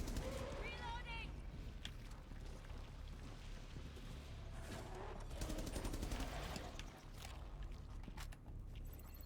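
Gunfire from the video game Rainbow Six Extraction, dense bursts of rapid shots layered over a busy game mix, with voices chattering underneath.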